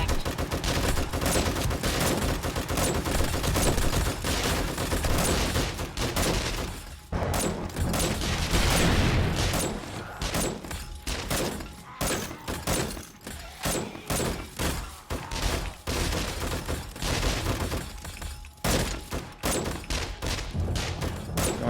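Automatic turrets blaze away in 7 Days to Die during an insane-mode quest, a loud, sustained fusillade of overlapping shots with brief lulls and heavy booming impacts throughout.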